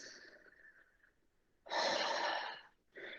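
Deep breath drawn during a yoga flow: a soft exhale tails off, then a strong, close, airy inhale-like rush lasts about a second, followed by a shorter breath after a pause, with no talking.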